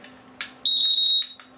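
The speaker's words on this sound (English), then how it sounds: "and if you hear your smoke detectors going off" A single sharp, high-pitched electronic beep sounds for about half a second, with faint clicks before and after in a quiet room.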